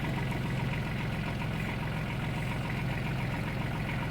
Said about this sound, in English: Go ahead and back that up. Back the tractor up.